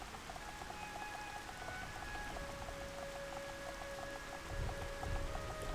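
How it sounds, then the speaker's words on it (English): Steady rain falls in Xenoblade Chronicles: Definitive Edition, a continuous hiss of drops with faint tonal game music threading through it and a slight swell near the end. "I could do without the rain"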